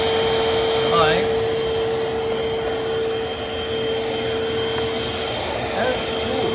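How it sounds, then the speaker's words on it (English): A Eureka vacuum cleaner runs steadily on a hardwood floor, a loud continuous motor whine with a constant high tone and broadband airflow rush, sustained close up throughout. "I don't even know if the Eureka still makes this vacuum at all."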